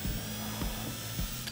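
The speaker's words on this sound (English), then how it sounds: "We're just gonna drill right in the center" Power drill boring a hole into the center of a plastic Bonafide SS127 or SS107 fishing kayak, a steady whirring grind with a few brief surges, close and alone.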